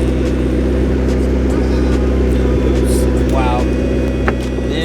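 A McLaren 650S sports car's engine gives a steady, deep droning hum at moderate distance for the whole stretch, with people talking over it.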